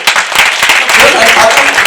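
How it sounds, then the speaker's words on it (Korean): Applause from an audience at a citizens' report meeting about a lead smelter, a dense continuous wash of clapping at steady loudness with voices mixed in throughout. "박수 한번 주시죠"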